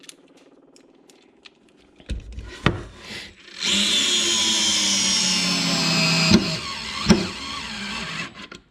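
A small cordless screwdriver drives a one-inch number 8 screw into wood. A few clicks and knocks as it is set up give way to a steady, loud motor whine lasting several seconds, broken by two sharp thumps.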